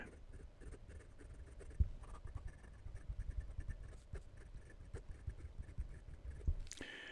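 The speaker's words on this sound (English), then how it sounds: "It's decently wet for a fine nib, and the nib is smooth with a good amount of feedback." A Gravitas Quark fountain pen with a fine nib writes on paper, giving soft, close scratching strokes with irregular taps and pauses, quiet and without talk.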